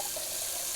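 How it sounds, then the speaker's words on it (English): Cold tap water runs steadily from a bathroom faucet into a sink during a shave-routine rinse, a continuous hissing splash that fills the whole short moment without any voices. "let's do a quick little cold water rinse"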